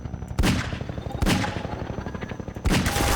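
Half-Life gunfire: three loud, booming shots spaced about a second apart, each with a sharp attack and a long rumbling tail that fills the gaps, with no talk.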